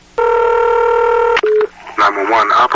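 A telephone in a film scene opening on an empty, furnished house: a long steady keypad tone, then a shorter one, followed by voices speaking.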